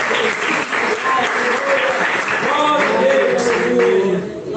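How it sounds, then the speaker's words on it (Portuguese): Church congregation applauding steadily during a sermon, loud sustained clapping from a crowd filling the whole stretch, with some voices mixed in. "Rebate mais palmas e glorifique esse lindo Jesus."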